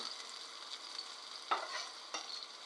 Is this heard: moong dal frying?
yes